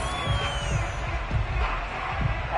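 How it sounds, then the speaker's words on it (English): Football stadium crowd at an Eagles preseason game roars and shouts steadily while watching a replay, a dense, continuous wash of many voices filling the space without any single clear speaker. "Plenty of shouts from this crowd as they watch the replay."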